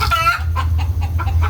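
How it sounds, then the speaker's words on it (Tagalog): Chickens cluck loudly and close by in a rapid, choppy series of short calls, one drawn-out squawk leading into several quick clucks over a steady low background hum. "Ang ingay ng mga manok"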